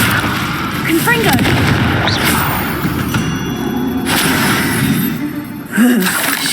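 Fiery Confringo blasting spells burst repeatedly during Hogwarts Legacy combat, a string of booming, crackling explosions over a constant roar of battle noise, with a sharp thud near the end.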